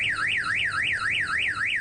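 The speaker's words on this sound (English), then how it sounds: "The sound of a blaring car alarm" A car alarm blares nearby, its siren tone sweeping up and down in a fast, steady wail with no other sounds.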